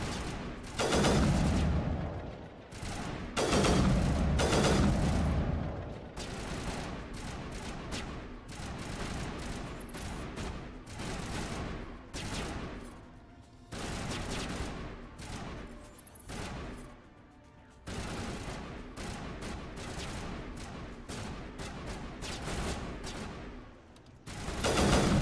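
Sustained gunfire in the Mass Effect video game: dense bursts of automatic fire and sharp shots, loud and continuous, with a few brief lulls between volleys.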